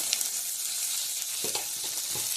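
Masala with Kashmiri chili powder frying in a pan, giving a steady close sizzle throughout with a few soft stirring scrapes near the end.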